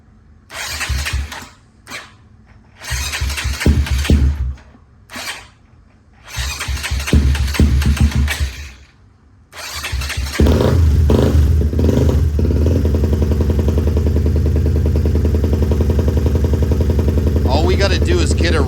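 A big-bore Honda Grom motorcycle engine cranks in several short bursts of starter clatter, then catches and settles into a loud, steady idle with light revving, close up.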